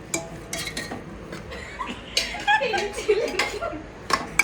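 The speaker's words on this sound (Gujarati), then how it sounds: "તો ફેમિલી આપણે મસાલો નાખી દીધો છે એન્ડ હલાઈ દેવાનો" A spoon stirring masala into a pot of pulao, soft scraping and light metallic clinks of utensil against the pot coming in irregular bursts, fairly quiet, with someone talking over it.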